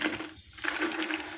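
Freshly popped popcorn pours into a drum, a close, continuous dry rattling and pattering of light kernels tumbling against the container for about a second and a half.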